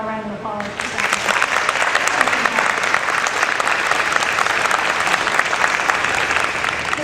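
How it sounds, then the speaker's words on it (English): Steady applause from an audience at a 2018 military retirement ceremony, rising quickly after a brief opening and holding loud and dense for several seconds, with a few voices mixed in. "So how about a round of applause for Zach?"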